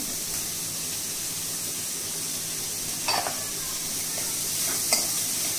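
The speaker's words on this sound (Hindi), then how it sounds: "ये जा रहा है कैबेज कैबेज के साथ ही हम अपनी गाजर डाल देते हैं" Cabbage and carrots stir-frying in a pan for a veg momo filling give a steady, soft sizzling hiss, with a couple of brief clatters from stirring; no voices.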